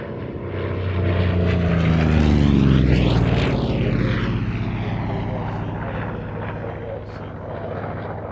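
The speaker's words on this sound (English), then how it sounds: "The Vought Corsair" Vought Corsair propeller fighter passing over at an airshow, a loud droning radial-engine roar that swells as it approaches and fades with a sweeping pitch shift as it goes by.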